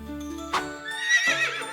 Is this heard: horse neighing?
yes